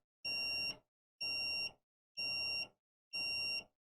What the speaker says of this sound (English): just showing you driving the beeper